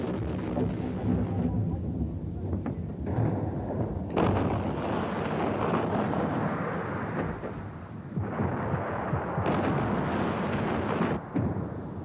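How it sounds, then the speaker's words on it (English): Self-propelled artillery guns shelling positions in towns along a highway, heard as heavy rumbling booms and blasts that roll on at a distance, with a few sharper thuds rising out of continuous low noise. "self-propelled guns pounded PLO positions in towns along the highway"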